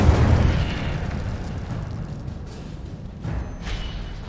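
An Incendio fire spell cast in Hogwarts Legacy bursts out with a booming, whooshing flare that fades into a softer crackle, followed by a couple of faint magical swishes.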